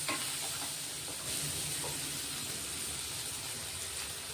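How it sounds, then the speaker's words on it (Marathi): Bitter gourd sautés in a pan, softening in its own steam, with a steady, even hiss of sizzling and a few soft stirring touches, close and continuous, with no voices. "आधी कारले चांगले परतून घेऊ वाफेवर"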